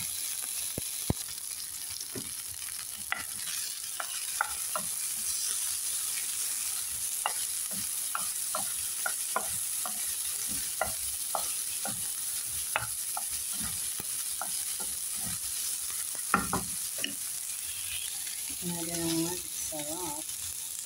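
Onion frying in a pan and stirred now and then, with a steady low sizzle, sharp scattered spatula clicks and taps, and a voice briefly toward the end.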